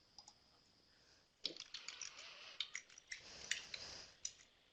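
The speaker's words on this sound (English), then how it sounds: "just typing while you were talking" Bursts of computer keyboard typing during an online webinar, quick irregular clicks in short runs, fairly close but quiet, with no voices.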